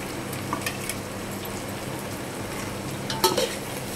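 Vegetable biryani ingredients with mint and coriander are stirred in a sizzling pan, a steady frying hiss with faint scraping and a couple of light utensil clinks.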